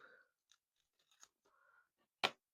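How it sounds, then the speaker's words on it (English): Scissors snip through a loop of tape during a stationery haul, a few faint rustles leading to one sharp, loud close cut near the end, with no talking. "Do I have some scissors? Because I don't mind cutting"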